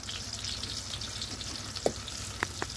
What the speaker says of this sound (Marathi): जिरे टाकली एक चमचा मोहरी टाकली आहे मोहरी थोडी जास्त टाकते कारण मोहरीने खूप छान चव येते पिठल्याला आणि आता तळू देते चांगलं